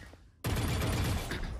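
Gunfire in Valorant bursts in abruptly after a quiet moment and continues as a loud, dense, sustained volley of rapid shots through to the end.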